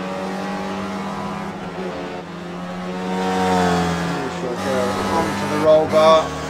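An onboard race car engine revs hard through a lap, its tone climbing and dropping through gear changes and braking into a hairpin, loud and close, while a commentator talks over it.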